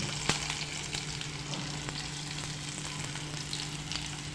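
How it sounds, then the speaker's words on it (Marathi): Ginger garlic paste sautéing in hot oil in a kadhai after cumin seeds for a fenugreek and pea gravy, a steady close broadband sizzle with faint crackles and a low hum throughout, no talking. "आणि छान असं परतून घ्यायचं आहे आलं लसूण पेस्ट"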